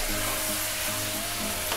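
Ground spice masala fries in a pan with tomato for a restaurant-style matar mushroom curry, giving a steady, close, hissing sizzle that holds evenly throughout with no talking.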